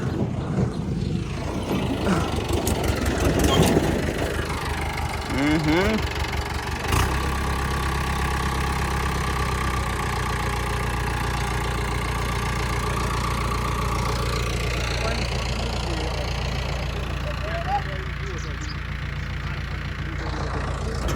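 A steady low tractor engine idles throughout, rumbling evenly and close by, with a brief rev early on and no voices.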